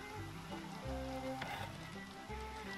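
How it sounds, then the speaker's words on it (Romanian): Steady hiss of rain in Red Dead Redemption 2 fills the background, with tonal synthesized music notes playing over it; no talking. "A început ploaia, na."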